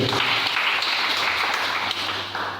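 A church congregation applauding to acclaim the Lord, a dense, steady wash of clapping from many hands that carries on throughout and fades slightly at the end.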